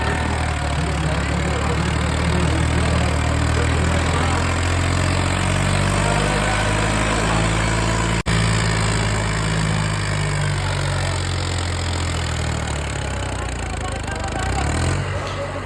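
A heavy old 735 tractor engine rumbles loudly nearby, its pitch sagging and rising as it labors under load.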